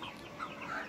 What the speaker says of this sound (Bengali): আর সাথে একটা দেশি মুরগি আছে